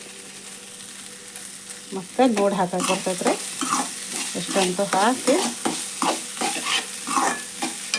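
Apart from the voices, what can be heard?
beans frying and stirring in tempering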